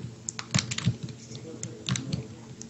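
Computer keyboard keys click and clatter right beside the microphone in an irregular burst of taps and heavier key strikes, with a voice talking softly underneath during a Roblox gaming session.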